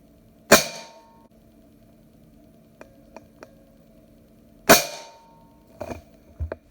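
A Benjamin Marauder air pistol fires lubed pellets in two sharp, close shots several seconds apart, each followed by faint metallic clicks and ticks of cocking and loading.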